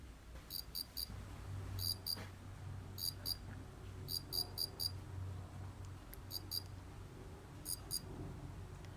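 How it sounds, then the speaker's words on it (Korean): A Far Eastern field cricket chirps by rubbing its two wings together, short bursts of repeated pulses, a steady rhythmic trilling close by, with a low hum underneath. "날개 두 장을 서로 비벼서 소리를 내고 있어요."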